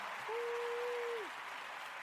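A crowd-cheering sound effect: a broad hiss of cheers and applause with one long, steady whistle rising above it for about a second before the noise tapers slightly.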